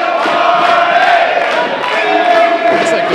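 Wrestling crowd at a live indie show roaring and cheering loudly, a dense continuous wash of voices with shouts rising and falling throughout.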